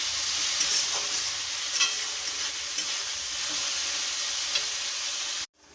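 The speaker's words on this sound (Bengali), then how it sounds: "মশলা কষা হচ্ছে।" Steady, loud sizzling of spice paste frying with capsicum, tomato and green chilli in a pan, with occasional stirring scrapes throughout before it cuts off abruptly near the end.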